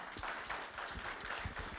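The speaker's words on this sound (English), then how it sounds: "Give a warm applause for Mihailo." A conference audience claps in a steady, dense patter of applause for the whole short stretch, moderately faint and fairly even, with no voice over it.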